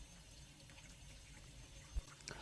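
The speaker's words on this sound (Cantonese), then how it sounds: "跟住拎去水喉揾水" Tap water runs steadily into a sink while a large flathead mullet is rinsed clean, a faint continuous splashing with one soft knock near the end.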